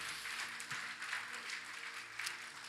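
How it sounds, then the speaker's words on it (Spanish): A church congregation applauds, a soft, continuous patter of many hands clapping at a distance, fairly faint with a few sharper claps standing out. "Denle un aplauso grande al Señor"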